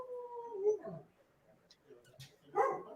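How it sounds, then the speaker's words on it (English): An excited dog whimpers and yips close by, with drawn-out whining tones at the start followed by quieter, scattered yelps and a final burst of whines. "I think your dog is excited about that"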